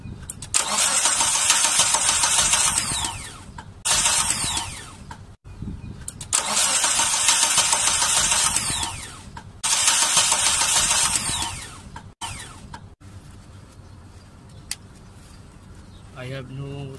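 A Mitsubishi car engine cranks repeatedly in several long bursts, a rapid whirring starter churn that never catches, with pauses between attempts and faint birdsong.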